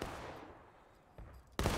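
Musket fire from infantry shooting at will in a Civil War battle game: a fading report at the start, then a couple of distant, irregular shots, the last one louder and closer.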